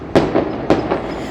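Firecrackers go off outdoors on the eve of an election result day. Two sharp, loud bangs sound about half a second apart, each trailing into a rumbling echo.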